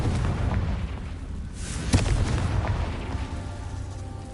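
A Confringo spell explosion in the video game Hogwarts Legacy lands as a heavy, rumbling boom at mid-clip, sitting within a dense, sustained low roar of game sound effects and ambience, with no speech.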